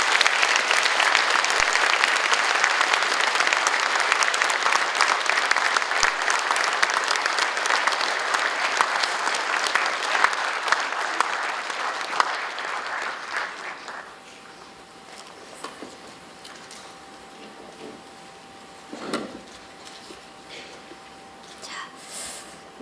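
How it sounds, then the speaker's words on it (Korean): A large crowd at a book concert applauds loudly for about fourteen seconds, then the clapping dies away into quiet room sounds with a few faint noises. "우리 가족분들 다시 한번 더 큰 박수로 맞아주세요."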